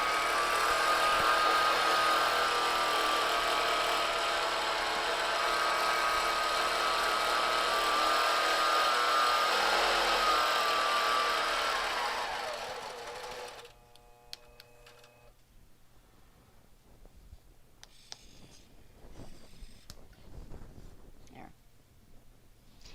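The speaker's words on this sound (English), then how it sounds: "And I'm just going to stitch a line all the way across." A sewing machine runs a steady, continuous stitch with bright yellow thread straight across quilt backing on a frame. It whirs loud and close for about thirteen seconds, then stops, leaving quiet handling sounds and light room noise.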